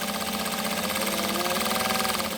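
A home sewing machine stitches steadily and continuously with a fast, even mechanical whir and rattle while backstitching and pivoting on a quilting project, close up and with no talking.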